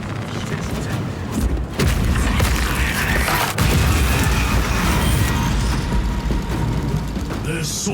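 Explosions and heavy booms as an altar is destroyed in the Space Marine video game, continuous loud blasts with gunfire-like crackle throughout, dense and close.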